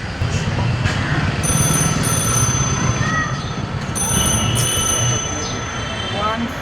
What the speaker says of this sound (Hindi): फोन तो उठा यार।